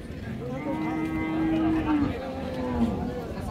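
Friesian cow with calf at a Raniganj cattle market in Dinajpur, giving a long, near moo followed by a shorter second call over market chatter.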